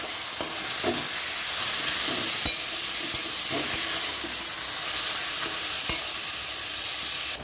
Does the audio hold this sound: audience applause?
no